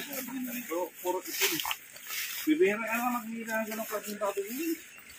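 Native pig grunting in a rough, irregular series of snorts and oinks, fairly close, with people talking over and between the calls.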